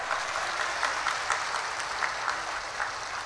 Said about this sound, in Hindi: एक बार तहे दिल से जोरदार तालियों से स्वागत होना चाहिए